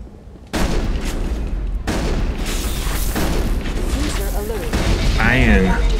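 Gunfire from the Mass Effect video game, a dense run of booming shots and blasts that fills the whole clip loudly, with a voice talking over the action.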